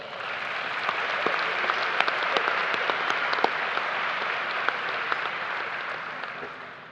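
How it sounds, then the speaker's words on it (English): Audience applause at a high school graduation ceremony, a broad, sustained crowd of clapping filling a large hall, even and moderately loud, with a few sharper individual claps standing out before it tapers off. "Let's give them one more round of applause."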